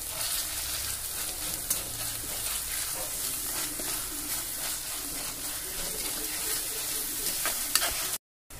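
Crushed garlic, onion and ginger fry in a pan with a dense continuous sizzle and a few stirring clicks, loud and close with no talking, then cut off briefly near the end.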